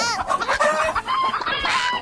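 A person imitates a clucking chicken in a playful word game, a loud rapid run of close, nasal clucks and squawks with rising and falling pitch.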